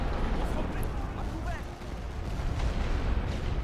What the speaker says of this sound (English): So I saw they have rolling barrages coming up here as well.